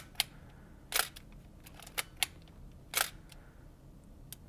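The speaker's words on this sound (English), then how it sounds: "The only way to be sure that the shutter will fire is to take this lever" A Nikon F3 film camera's shutter fires with a mechanical release, giving several sharp, close clicks at irregular intervals, some doubled, against a quiet background. No one speaks.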